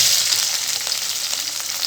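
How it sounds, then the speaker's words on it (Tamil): Chopped onions and green chilli fry in hot oil, a steady, loud, close sizzle that holds without a break and has no speech over it. "இப்போ இந்த ஆயிலில் வந்து இந்த அரிஞ்சு வச்சுருக்க வெங்காயமும் பச்சை மிளகா ஒன்று வந்து இது போட்டுறேன்."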